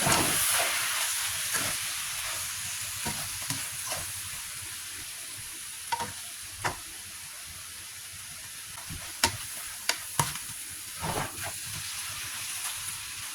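Pork belly and water spinach stir-fried over high heat hiss loudly at first, then settle into a fading steamy sizzle punctuated by scattered spatula taps and scrapes.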